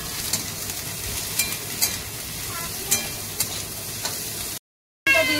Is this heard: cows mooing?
no